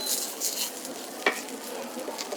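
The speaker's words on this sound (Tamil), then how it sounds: "நான் முருங்கைக்கீரை அப்படியே போட்டு வதக்குறேன்" Drumstick leaves being sautéed and stirred in a pan, a faint sizzle with light scraping stirs over about two seconds.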